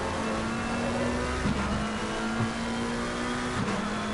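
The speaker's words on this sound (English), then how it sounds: "God, listen to that McLaren sing." A McLaren race car engine at Monza in a racing video game, a steady sustained drone with a constant pitch that holds across the stretch, slight shifts near the middle, and no talk over it.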